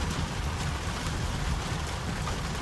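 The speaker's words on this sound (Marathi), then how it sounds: "शेट डेंजर पाऊस पडतोय रे, खूप डेंजर" Dense, steady rain roars without a break, a broad constant wash of noise with a low rumble beneath, loud and close throughout.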